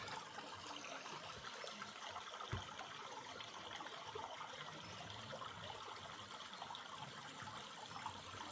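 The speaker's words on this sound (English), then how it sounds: "That must be the water that comes down onto the beach." Water from a stream trickles and runs down onto a North Yorkshire beach, a faint steady wash with no voices.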